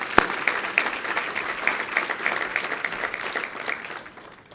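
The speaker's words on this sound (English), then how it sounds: "let's give them a round of applause." A crowd applauds steadily, with many hands clapping at once, then the clapping gradually fades out.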